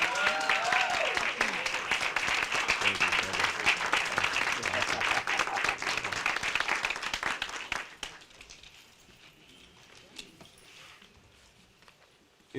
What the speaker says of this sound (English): Give yourself a round of applause as we bring on Dr. Chike Akua.